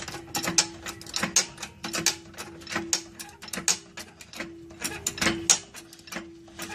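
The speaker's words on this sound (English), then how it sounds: "I'm going to jack it up as high as I can before the tire comes off the ground" Ratcheting jack lifting a vehicle with a 3.5-inch short-arm suspension, a rhythmic series of close metallic clicks and clacks at a steady pace, no voices.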